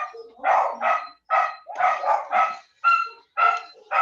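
A dog barks nonstop nearby, eight or so loud, sharp barks coming in a steady, insistent rhythm, some doubled together, with no voices over them.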